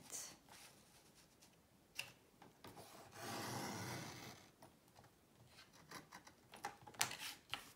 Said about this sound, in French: Nous reprenons notre machine de découpe et nous allons couper le dessus simplement.